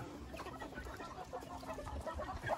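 Egg-laying chickens cluck softly and repeatedly at close range, overlapping murmurs from several birds in a quiet laying-house setting.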